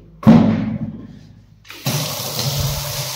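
Water from a tap runs into a toilet. It opens with a brief thud and splash that fades, then after a short pause a steady, close gush of running water continues.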